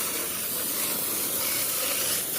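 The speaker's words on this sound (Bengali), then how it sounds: "সো গাইস ফাইনালি জল বেরিয়ে গেছে। আর জলের প্রেশার কি ভাই, সেই লেভেলের প্রেশার।" High-pressure water jet from a coin-operated bike wash, a steady broadband hiss and spray that runs unbroken and loud throughout without pause.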